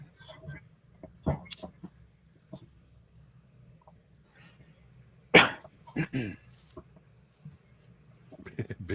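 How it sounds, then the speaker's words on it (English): A person coughs once sharply and close, followed by a few quieter throat noises, set among scattered clicks and handling sounds in a quiet room with occasional speech. "A little cough."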